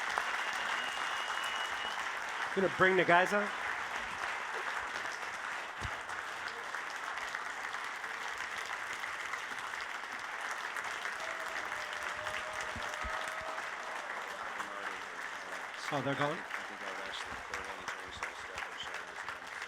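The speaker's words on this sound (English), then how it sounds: "There's a round of applause, please, for Mark Forgione" Sustained audience applause for chef Mark Forgione fills the room, with brief speech rising over the clapping at two points.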